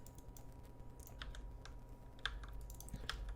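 Someone types on a computer keyboard during a game, giving quiet, scattered clicks and key taps over a low background hum.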